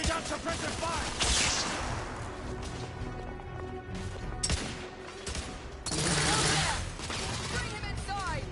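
Suppressive gunfire in the Victorian-era shooter The Order: 1886, with bursts of shots and crashing impacts mixed with game music and voices shouting between volleys.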